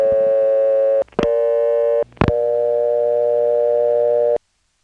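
A generic independent step telephone exchange dial tone hums as a steady buzzy tone, cut twice by brief breaks with sharp clicks, then stopping abruptly.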